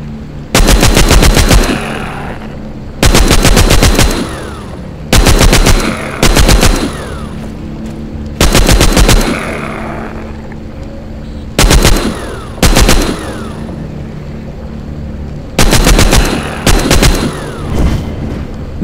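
Gunfire from the zombie shooter game The Walking Zombie 2 on Android: loud repeated bursts of rapid automatic shots, about seven volleys separated by short pauses over a steady low in-game ambience.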